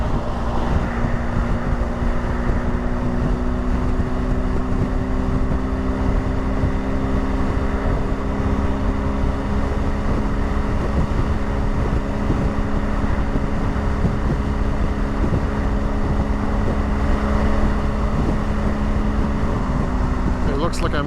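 A BMW R1250 GS Adventure motorcycle cruises on Highway 50 toward Gatineau at rush hour. A steady, loud engine drone with a low hum is mixed with constant wind rush across the microphone, and a rider talks over it.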